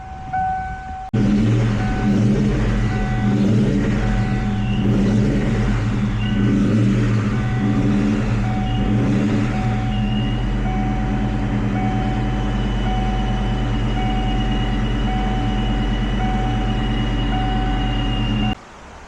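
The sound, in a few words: Ford Mustang Cobra engine running after oil cooler install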